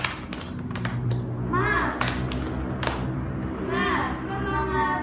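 Children in a classroom perform a rhythmic 'tepuk semangat' spirit clap, sharp spaced claps mixed with their chanting voices over a busy room hum.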